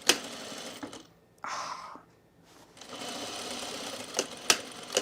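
A sewing machine stitches the welt on men's cargo shorts in close, steady whirring runs, broken by a short pause and a few sharp clicks near the end.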